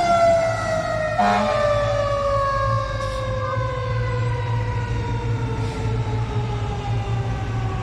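Ottawa fire trucks responding with sirens wail continuously, the pitch sweeping slowly downward, while short horn blasts cut in over a low rumbling engine, loud and fairly close throughout.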